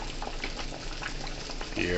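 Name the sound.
beef soup bubbling as it boils in a pot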